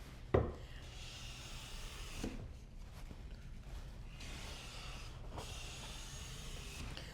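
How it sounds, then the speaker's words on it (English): Hand plane shaving a hardwood board, three long, rasping strokes close by, each a drawn-out scraping swish separated by brief pauses, opening with a sharp knock. "if I plane in this direction, I'm going to take a little heavier shaving than that"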